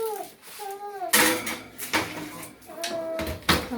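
A metal baking pan holding a chocolate roll cake is set into an oven with a few clattering knocks and a door bang, while a voice talks between the sounds.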